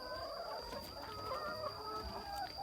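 Chickens cluck faintly and steadily in a farm coop, with a thin background hum and no speech.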